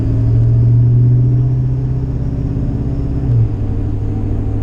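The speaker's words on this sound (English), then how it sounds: "All you hear is engine. Maybe a little bit of mud graps." A truck on mud-grappler tires drones steadily and loudly at low pitch, with a constant rumble of tires rolling over rough ground and a faint tonal hum.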